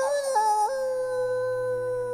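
A cartoon wolf gives one sustained, close, loud howl. The pitch rises briefly in the middle, then settles and trails off over a soft background tone.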